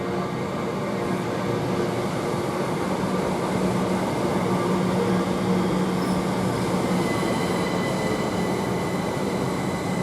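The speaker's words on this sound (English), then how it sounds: "a Great Western Railway here, the 387s, which I do believe they're from London Paddington" A Great Western Railway Class 387 electric train at Didcot Parkway station, a continuous loud rumble of wheels and traction with faint squealing tones, steady and close for about ten seconds, no voices.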